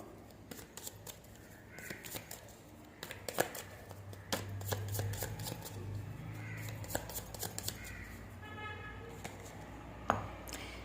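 Tarot cards are shuffled close by in a quiet room, making soft flicking, riffling and tapping sounds in irregular bursts.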